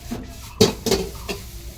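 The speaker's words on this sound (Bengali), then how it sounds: "এইখানে কিন্তু ভাজা হচ্ছে লাইভ চিকেন চাউমিন" Chicken chow mein frying at a busy street food stall, a close, loud clatter of utensil strikes against the pan, three or four sharp hits over a steady hiss.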